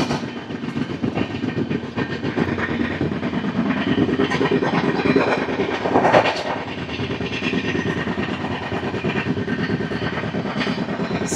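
The Kirandul–Visakhapatnam passenger train runs on its rails with a loud, steady rumble and rhythmic clickety-clack of the wheels, heard from close by without talk.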